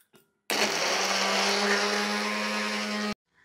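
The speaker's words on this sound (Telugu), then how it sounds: "ఇక్కడ ఇది కూడా మిక్సీ పట్టేసుకుందాం" A kitchen mixer grinder runs in one steady burst of about two and a half seconds, a loud high-pitched whirring drone that starts and stops abruptly, with quiet before and after.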